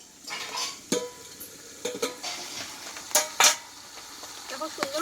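Fried mutton in a pot for a Bengali curry crackles with a soft sizzle, punctuated by several sharp clanks and scrapes of a utensil against the pan, close and fairly quiet.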